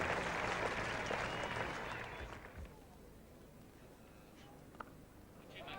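A cricket crowd at a 1977 England versus Australia Test match breaks into broad applause that swells and then fades into a sparse patter, heard at a distance.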